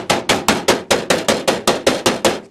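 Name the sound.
hammer hammering sheet metal on a block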